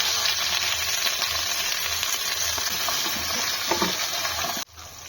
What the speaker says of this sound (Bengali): জিরে ফোড়ন দিলাম সবজিগুলো দিয়ে দিলাম